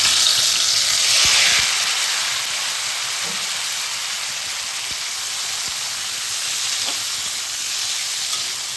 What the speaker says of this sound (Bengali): ডাঁটা আলুটা আমি ভেজে নেব, অল্প একটু ভেজে নেব